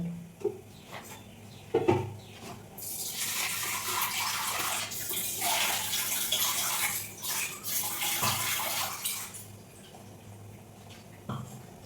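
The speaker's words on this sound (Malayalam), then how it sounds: "കുറച്ച് വെള്ളം കൂടി ചേർത്ത് കൊടുക്കണം." Water pours steadily into a pot of Udupi rasam, a close, continuous splashing rush lasting several seconds after a couple of light knocks, then easing off with a few final clinks.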